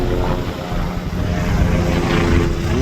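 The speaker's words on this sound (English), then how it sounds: "Debris everywhere. Helicopters." A helicopter flies over EF-2 tornado damage in Three Rivers, Michigan, its rotor and engine making a loud, steady, dense drone that fills the whole stretch without a break.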